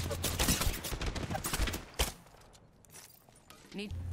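Gunfire in the video game Apex Legends: a cluster of sharp shots in the first two seconds, loud and close, followed by quieter scattered game sounds while a voice talks over it.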